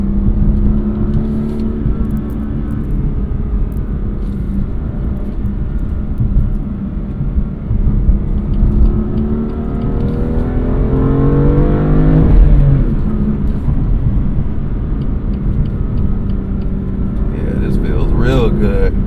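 A BMW M2 CS, a 444-horsepower car, holds a steady engine drone that swells into a rising rev near the middle before settling back, with voices talking over it throughout.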